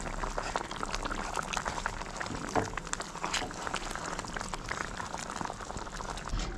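Lemon and dates pickle gravy bubbling in a pan in a Kerala-style kitchen, a steady close crackling simmer with dense small pops, continuous and moderately loud with no voice over it.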